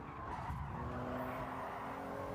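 Tires skidding as race cars collide in the Gran Turismo 7 racing game, a steady, moderately loud scrubbing squeal and engine rumble lasting a couple of seconds, with no talk.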